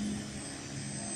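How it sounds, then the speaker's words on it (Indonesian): A display aircraft performing at a naval aviation anniversary air show at Juanda Airport in 2016 roars steadily in a brief burst, a broad, loud engine drone with a low hum, no voices. "pesawat atraksi di hari HUT"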